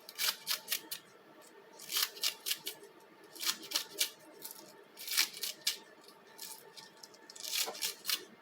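Kitchen scissors snip the ends off vegetables in quick, crisp clicks, sounding in clusters of two to four cuts with brief pauses between them, close up and fairly quiet with no talk.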